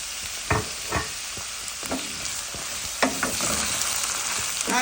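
Potatoes dropped into hot oil in a pot for chicken pot pie, a constant bright sizzle punctuated by several close knocks and scrapes of stirring.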